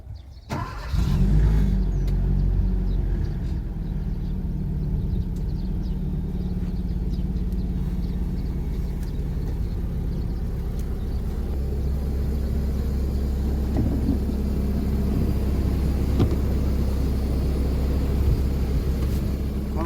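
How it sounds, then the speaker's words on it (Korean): A farm sprayer engine is running in a peach orchard to mix a nutrient solution. It starts with a sharp burst, then keeps up a loud, steady mechanical rumble with clattering overtones for about twenty seconds. "지금부터 조금 이제 그 엔진을 틀어서 한번 섞어주고"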